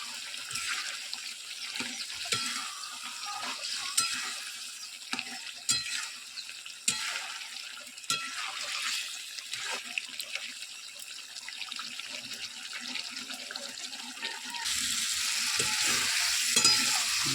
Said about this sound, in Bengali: মাংসটা দেওয়া হয়েছে, এবার কষতে থাকবো। একটু ভালো করে নেড়ে নেই।